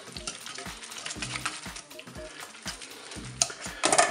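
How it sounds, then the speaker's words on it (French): Ham and gruyère being stirred together in a Cookeo multicooker pot, with repeated scraping and mixing strokes over a soft sizzle, nearby and moderately loud, with a few sharper clinks toward the end. "On mélange tout ça."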